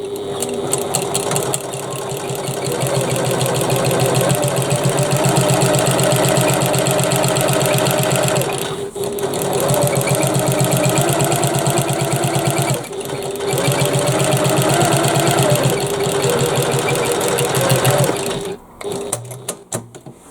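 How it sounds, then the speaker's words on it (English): A sewing machine top-stitches fabric for a bag in long, loud, steady whirring runs of rapid needle strokes, pausing briefly twice and stopping near the end. "we just top stitch on the bottom side"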